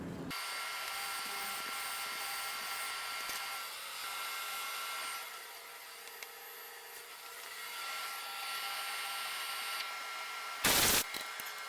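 A continuous mechanical whir of a milling machine drilling an ejector plate with a slightly over 1/8 inch bit, steady and fairly loud, with a brief dip in the middle and a short sharp burst near the end.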